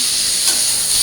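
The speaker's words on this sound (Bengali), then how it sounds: "আর এদিকে যে মাছ ভাজি বসায় দিচ্ছি" Fish sizzles loudly and continuously as it fries in a hot pan in a home kitchen, with a dense, steady hiss.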